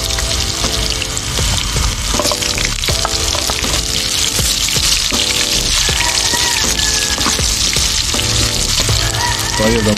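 Garlic and onion sautéing loudly in a pan over a backyard cooking fire, a constant hissing fry with rhythmic scraping stir strokes throughout, no talking.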